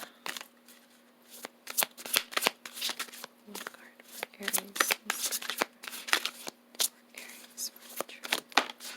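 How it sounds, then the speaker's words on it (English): An oracle card deck is shuffled close up in a quiet room, a rapid series of crisp riffling bursts and slaps repeating irregularly for several seconds. "I am going to pull a card from the Dark Mirror Oracle deck."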